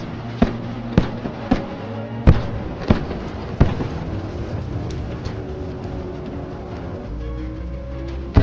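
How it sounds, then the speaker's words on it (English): Bradley fighting vehicle cannon firing on an armored personnel carrier, heard as a series of sharp, loud impulsive bangs in an irregular rhythm over a steady low rumble, fading into continuous rumbling toward the end. "Bradley opens fire. Direct hits on the APC."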